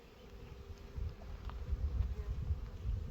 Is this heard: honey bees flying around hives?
yes